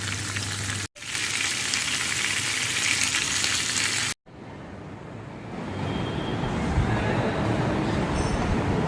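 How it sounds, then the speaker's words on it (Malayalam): Tiger prawns frying in a pan give a steady, loud sizzle that carries through with two brief cut-outs, with no talking over it. "കുറച്ച് നെക്സ്റ്റ് സെറ്റ് ഓഫ് ഇത് വറുത്തുകൊണ്ടിരിക്കുകയാണ്"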